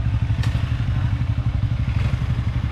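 Motorcycle engine revving close up, a throaty rapid-fire putter with a steady pulsing rhythm and rattling clatter, loud and continuous.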